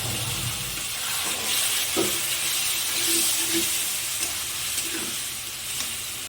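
Spice paste of ginger paste, cumin, turmeric, chilli and coriander powders with tomato fries in a pan for a bhola fish curry, a steady close sizzle and hiss with occasional stirring scrapes, no talk.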